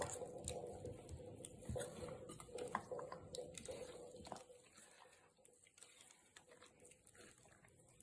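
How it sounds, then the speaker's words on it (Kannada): Dosa batter is mixed by hand in a vessel, giving wet squelching pats and clinks against the pot that are loud at first and then fade into a softer, looser churning. "ಇವಾಗ ಇದನ್ನ ಕೈನಲ್ಲೇ ಮಿಕ್ಸ್ ಮಾಡಬೇಕು."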